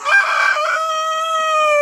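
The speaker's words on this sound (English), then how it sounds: "I like have to wait until all of them's done crowing and all of them's done clucking" A rooster crows loudly and close by in one long, sustained cock-a-doodle-doo, opening with a rougher clucking burst before the steady drawn-out call.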